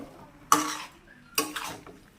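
Spoon scraping and knocking in a pan of jackfruit and shrimp curry being stirred, two sharp metallic clinks with a softer scrape between, close and otherwise quiet.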